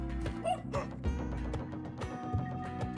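A dog barks in the Spelunky 2 video game, giving a few short yips and woofs over a dense layer of game music and effects, fairly close and moderately loud throughout.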